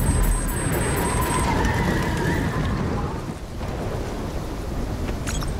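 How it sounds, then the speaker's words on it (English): Superstorm in Call of Duty Black Ops 3: a loud, steady roar of rain and rumbling thunder that eases briefly, then carries on, with no voices. "Incoming superstorm too strong."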